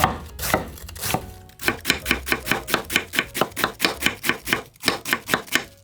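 A knife finely shreds cabbage lengthwise on a board for a cabbage salad, with loud, close, evenly paced chops repeating a few times per second and no talking.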